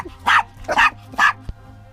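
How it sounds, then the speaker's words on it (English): A dog barks three times in quick succession, close and fairly loud, followed by a short thump, at a boondocking campsite in Quartzsite. "Who are you barking at?"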